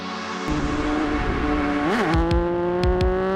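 A Triumph motorcycle roars past at speed, its engine note rising as it closes in, then dipping sharply as it passes and pulls away.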